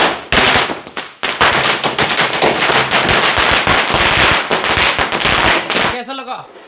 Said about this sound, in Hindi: छुटाने वाली है भाई 1000 वाली लड़ी